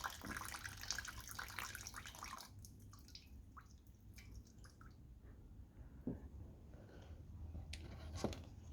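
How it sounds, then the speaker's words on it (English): Fuel draining from the removed carburetor of a Honda GX110 3.5 engine, a quiet, steady trickle with a few soft drips, close by and with no talking. "that's draining more fuel out of it."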